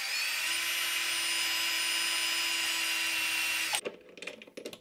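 A power drill whines steadily at high speed for several seconds while drilling a hole in a metal part, then stops abruptly, followed by scattered clicks and handling noises nearby.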